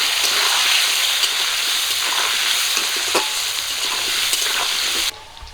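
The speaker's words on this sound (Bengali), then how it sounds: "মাছ ভাজার তেলে আমি আলুগুলো দিয়ে দেব একটুখানি হলুদ গুঁড়ো লবণ লবণ হলুদ দিয়ে আলুগুলো একটু ভাজবো" Potatoes sizzle loudly in fish-frying oil seasoned with turmeric and salt, a steady close hiss with faint crackles that cuts off abruptly near the end, no talking.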